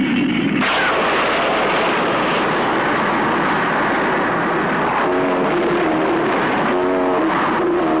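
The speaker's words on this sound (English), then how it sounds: "Let go of the rocket." A rocket fired at a monster with a roaring blast and rumbling explosion in the Ultraman TV show, a loud continuous wash of noise with warbling tones rising in the later part.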